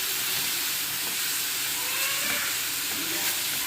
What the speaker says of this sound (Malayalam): ആവശ്യത്തിനുള്ള വെളിച്ചെണ്ണ ഒഴിച്ചു കൊടുത്തതിന് ശേഷം നമുക്ക് നമ്മുടെ ഇഞ്ചി, വെളുത്തുള്ളി പേസ്റ്റ് അതിലേക്ക് ഇട്ട് കൊടുക്കാം